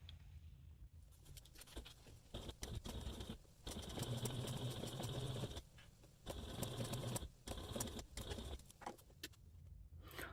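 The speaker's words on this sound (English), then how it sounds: "Take this to a machine and you're going to top stitch at a 1 inch seam allowance from that bottom raw edge." A sewing machine top-stitches a handbag slip pocket at a 1-inch seam allowance, its faint, rapid mechanical chatter running in two bursts of a couple of seconds each between quieter pauses.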